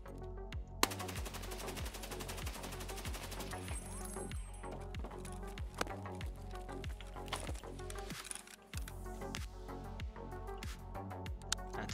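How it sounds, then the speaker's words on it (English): A suppressed AK-12 rifle fires in Escape from Tarkov, a rapid automatic stream of muffled, thudding shots in quick regular bursts, close and continuous with mechanical clatter between rounds. "Here is the standing recoil of the AK-12."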